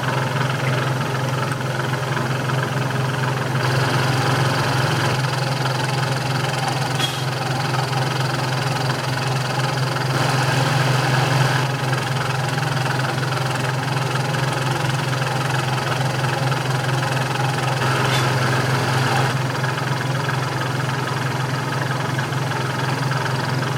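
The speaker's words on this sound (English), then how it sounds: "we'll come back and get set up ready to cut those grooves, angle grooves." A slotter machine cuts angled grooves, giving off a steady, loud mechanical drone with a strong low hum. Faint rhythmic swells rise over the hum as the cutting stroke repeats, and no one talks.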